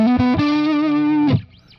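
An electric guitar through an IK Multimedia Tonex modelling a 1959 Fender Bassman, with no reverb, rings out a short gritty lick and a held sustained note before cutting off abruptly, loud and dry.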